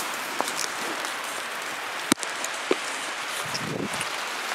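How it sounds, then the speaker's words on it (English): Rain falls in a forest where chanterelle mushrooms grow, a steady hiss of drops on leaves with a few louder taps and one sharp knock close by. "So it's got a little rainy"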